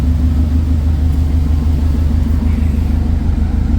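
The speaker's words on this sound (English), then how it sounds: "it's idling really nicely right now." Car engine idles on its first start after a front-mount intercooler install, running on a speed density basemap: a loud, steady, close low rumble with an even pulsing beat and no talk.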